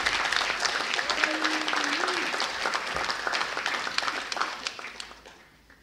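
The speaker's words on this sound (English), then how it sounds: "I really want us to endorse that and cheer that very," An audience at an inaugural session breaks into steady, crowded applause that tapers off gradually toward the end, with a brief voice rising over the clapping early on.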